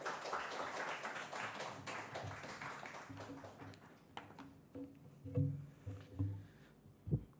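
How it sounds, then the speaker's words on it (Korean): A church congregation claps to welcome the pastor, brief scattered claps fading to quiet, followed by a few isolated taps and soft sounds near the end. "우리 목사님 나오실 때 박수로 환영하겠습니다"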